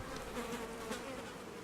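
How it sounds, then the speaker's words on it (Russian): Flies buzz steadily in a Kingdom Come: Deliverance game scene, a close, constant insect drone with slight wavering and no speech over it. "Мухи."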